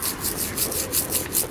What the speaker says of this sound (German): Man muss ein bisschen geduldig sein mit dem Reiben.